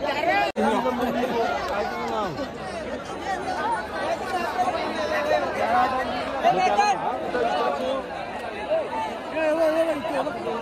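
Dense hubbub of a big crowd at a bullock cart race, many overlapping voices chattering and calling outdoors, steady and close, with one sharp knock near the start.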